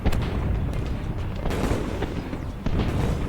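Artillery fire and exploding shells in a Napoleonic battle sound effect: dense, rumbling booms and cracks overlapping continuously, loud throughout the short stretch.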